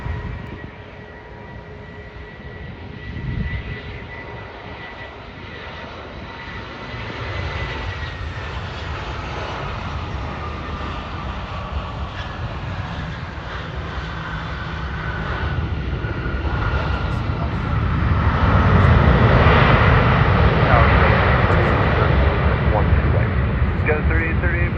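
A Delta airliner on final approach to land on runway 12 right at Minneapolis, a steady jet engine roar that slowly builds and grows louder as it nears, with radio voices talking underneath.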